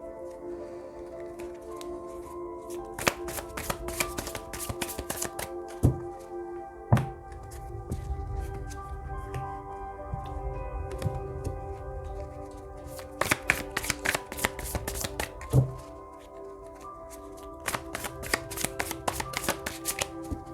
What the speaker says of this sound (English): So let me shuffle first on camera,